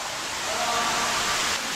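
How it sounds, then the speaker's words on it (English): Near, steady waterfall rush with a broad, even hiss of cascading water that holds constant, moderately loud and uninterrupted, with no voices over it. "That waterfall though, man."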